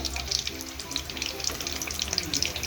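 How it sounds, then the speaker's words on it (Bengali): Prawn chops crackle and sizzle in hot oil, a steady close bubbling hiss with scattered sharp pops throughout. "লো করে রেখে আরও কিছু সময় ধরে এই চপগুলোকে ভেজে নিতে হবে।"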